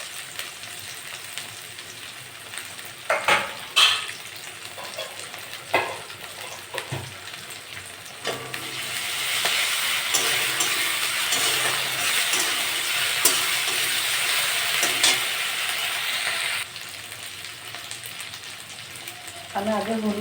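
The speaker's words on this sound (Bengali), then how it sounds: "চিংড়ি মাছটা ভাজা ভাজা হয়ে গেছে, আমি একটু আদা রসুন বাটা দিয়ে দেবো।" Shrimp fry with ginger-garlic paste in a pan for a banana flower and potato chorchori, opening with spoon clatters before a loud, continuous sizzle swells and then eases.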